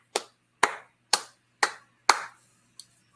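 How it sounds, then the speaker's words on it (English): One person claps a round of applause for Lee, five sharp, evenly spaced claps close to the mic, followed by a faint sixth clap. "let's give a round of applause for Lee"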